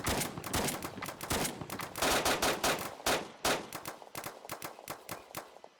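Sustained covering gunfire in the military shooter BRM5, with rapid overlapping rifle bursts and single shots crackling nearby and loud throughout, then thinning toward the end.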